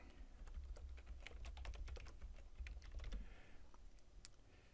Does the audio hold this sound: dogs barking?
no